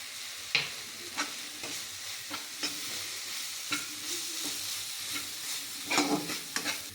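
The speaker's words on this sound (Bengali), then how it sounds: "মশলাটাকে একটু কষে নেবো। লঙ্কার গুঁড়ো দিয়ে দিলাম।" Spice paste with chilli powder frying in a pan, a soft continuous sizzle broken by repeated scraping stirs at an uneven rhythm, close and fairly quiet, with no talking.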